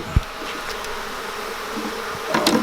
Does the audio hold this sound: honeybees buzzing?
yes